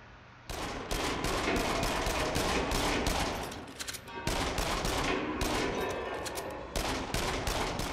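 Rapid, dense gunfire in the horror shooting gallery game Until Dawn: Rush of Blood in a haunted lodge, loud continuous bursts of shots with a brief lull midway before firing resumes.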